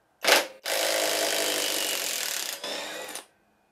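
Villager VLP 5320 impact driver spins a fastener loose, a brief burst followed by a steady close whirring run of about two seconds that dips briefly before stopping.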